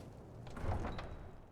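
A door in Skyrim opens with a short, soft wooden scrape and thud that swells briefly and fades, heard alone with no talk.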